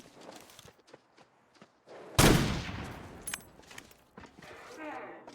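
A single sharp, loud gunshot from the survival video game Gunloper cracks out mid-clip, its echo fading over a second or so, with quiet footsteps and soft movement noises before and after.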